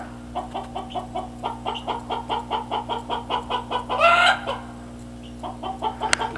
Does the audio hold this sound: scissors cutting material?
no